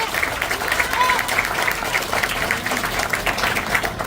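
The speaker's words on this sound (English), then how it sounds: "Let's give them a round of applause." An audience at an elementary school steel topping-off ceremony gives a round of applause; a sustained, even wash of many hands clapping, moderately loud, with a murmur of voices mixed underneath.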